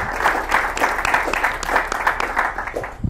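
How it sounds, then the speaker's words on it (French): A studio audience on a Cameroonian children's game show bursts into lively, rhythmic clapping, close and energetic, with no voices on top. "On applaudit très fort pour ça."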